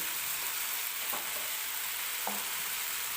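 Garlic and ground coconut fry in a pan for a fenugreek-leaf dish, giving a faint, steady sizzle with a couple of soft spatula scrapes against the pan and no speech.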